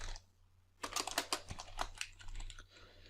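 Quick bursts of typing on a computer keyboard, close and soft, with a short pause before a rapid run of keystrokes that trails off.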